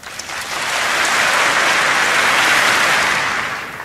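A crowd applauds at a concert: a dense, loud wash of clapping that swells in, holds steady for several seconds, then tapers slightly toward the end.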